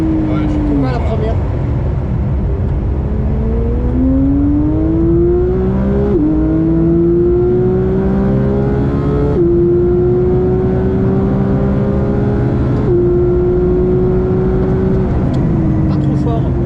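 Porsche GT3 992.1 lapping the Spa circuit, heard from inside: a loud, continuous engine note climbing through the gears with sharp drops at each shift. A person talks over it now and then.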